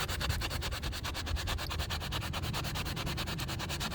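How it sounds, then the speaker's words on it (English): Rhythmic sanding on contoured teak decking, a regular back-and-forth rasping stroke repeating quickly and evenly at close range. "So sanding here is going to be important"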